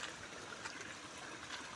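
Water flowing along a recently cleaned irrigation channel by an orchard, a faint, continuous trickling stream with soft gurgles and no talk.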